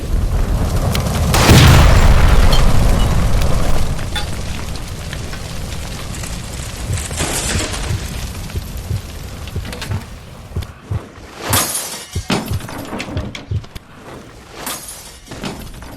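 A gas line explodes in L.A. Noire with a heavy, close boom, followed by a long crackling, debris-like roar and several sharp, scattered bursts that fade over the following seconds.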